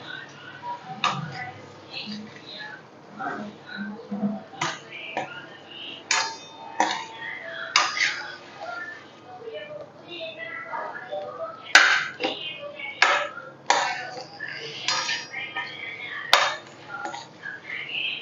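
A spoon clinks and scrapes irregularly against a pan as drumstick (moringa) curry is stirred gently, with occasional sharper metallic knocks and soft voices in the background.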